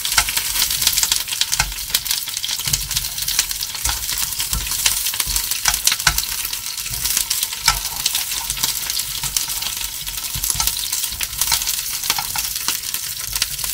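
Loud, steady sizzling of peppers frying in a pan, with occasional scraping and clicks as they are stirred; no voices.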